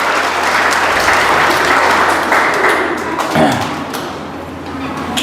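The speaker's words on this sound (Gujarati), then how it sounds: "તો આપણે સૌ તેમનું તાળીઓથી સ્વાગત કરશું" An audience at an organization's tribute gathering for a guru claps loudly and steadily to welcome the guest Kamleshbhai Amdavadi. The applause then thins slightly toward the end over a faint electrical hum.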